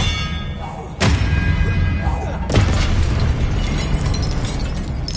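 Expelliarmus spell effects in the Hogwarts Legacy video game: two sharp, loud bursts about a second and a half apart, each followed by a sustained rumbling wash.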